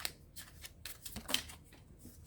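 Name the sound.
shuffling tarot cards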